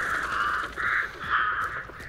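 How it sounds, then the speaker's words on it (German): Ravens caw in the video game Hunt: Showdown, three drawn-out harsh calls in a row at moderate distance, loud and clear with no talk over them. "Das sind ja nochmal Raben."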